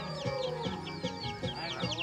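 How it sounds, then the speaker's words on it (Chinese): A farmyard hen in rainy weather clucks softly and repeatedly in short rhythmic calls, faint against a steady background hum with light chirping overhead. "这个小鸡呢是我妈妈养的这个母鸡"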